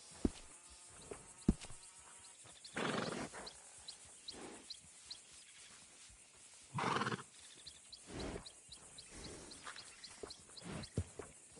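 Horse sounds in Red Dead Redemption 2: faint, close snorts and breathy whinny bursts from a horse at a stable, spaced apart over quiet game ambience with occasional soft hoof knocks.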